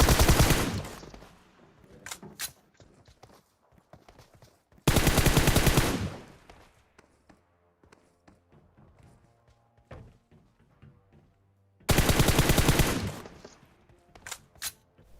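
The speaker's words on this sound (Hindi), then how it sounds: "कोई लोहे के टावर से गोली चलाता है" Gunfire in PUBG Mobile: three loud, dense bursts of rapid automatic shots from a tower, separated by quieter stretches with scattered single impacts and clicks.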